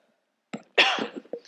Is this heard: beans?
no